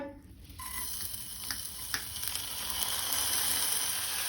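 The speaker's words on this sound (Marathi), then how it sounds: "तांदूळ आमकां मातशे तुपार परतून घेवपाक जाय।" Varai rice roasting in a spoonful of ghee over a low flame, a steady soft sizzle that starts abruptly and holds evenly, with a few faint stirring scrapes and no talking.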